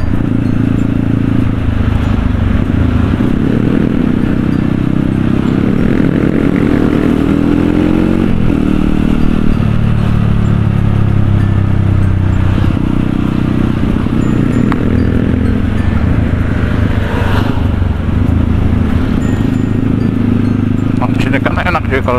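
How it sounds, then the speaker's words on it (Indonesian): Kawasaki KLX dirt bike ridden on a road, its engine droning loudly and steadily up close with shifting pitch as it accelerates, along with wind and clattering road noise. "Kalah kecepatan motor kita sama motor listrik."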